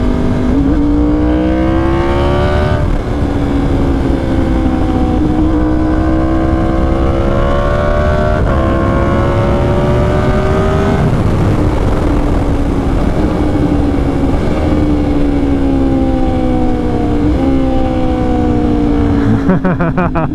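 A Yamaha R1 motorcycle with an SC Project CR-T exhaust, heard loud and close, revving hard through repeated rising engine pulls with gear changes over a sustained, aggressive exhaust roar.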